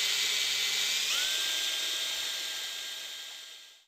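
A Vortex Power Mixer spun by a hand drill gives a loud, high whirring whine that slowly fades as the drill spins down to a stop.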